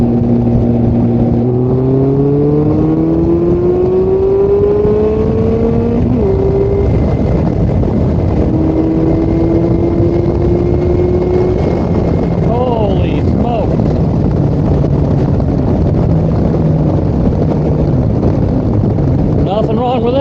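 A Kawasaki Concours 14 motorcycle accelerates hard through several gears, its engine note climbing steadily and dropping at each shift, loud and continuous with wind noise over the whole run.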